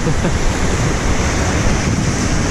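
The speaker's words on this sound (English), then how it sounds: "there are a few waves that really got me good" Ocean waves washing onto Seagrove Beach at sunrise with the tide coming in strongly, heard as a loud, continuous roar of surf mixed with wind buffeting the microphone.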